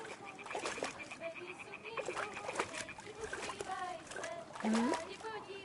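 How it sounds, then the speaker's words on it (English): A stone lands in water in Kingdom Come Deliverance 2 with a short splash, heard amid busy game ambience and overlapping character voices. "Throw a stone in the water near her to lure her away."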